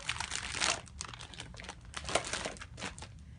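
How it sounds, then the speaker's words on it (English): Crisp crinkling of a plastic bag, handled in irregular rustling bursts close by, with no talking. "So everything goes inside the plastic bag."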